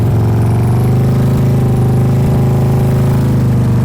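A motorcycle engine idles in gear, a steady, loud, low throbbing rumble held at an even pitch throughout, with no talking.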